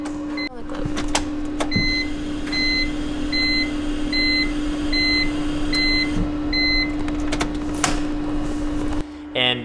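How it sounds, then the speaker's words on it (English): A car fuel pump priming before the engine starts makes a steady, close electrical hum that runs throughout, while a series of evenly spaced electronic dashboard beeps sounds over it. "Here's the noise for the fuel pump when it primes before you turn the car on."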